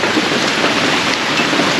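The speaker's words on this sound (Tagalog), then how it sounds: "Biglang lumakas yung ulan." Heavy rain pours down in a dense, steady hiss, loud and close, at a campsite on Kalanggaman Island, with no other sounds.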